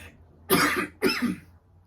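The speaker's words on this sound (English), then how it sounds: "I'm sorry for coughing at you guys' faces" Two sharp, close coughs in quick succession, each a short harsh burst, with quiet before and after.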